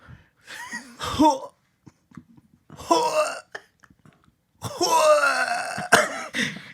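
Someone imitates vomiting with their voice: three retching, gurgling bursts separated by short silences, the last one longest and loudest.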